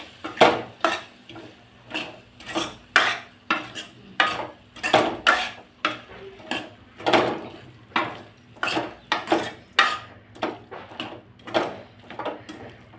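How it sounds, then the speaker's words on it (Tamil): A potato and brinjal stir-fry with coriander leaves is stirred in a pan, a close, regular series of metal spoon scrapes and clanks against the pan repeating roughly every half second, with a faint sizzle underneath and no talking. "கொத்தமல்லி தழை கொஞ்சம் ஒரு கைப்பிடி போட்டு நல்லா கலக்கி விட்டுருலாம்."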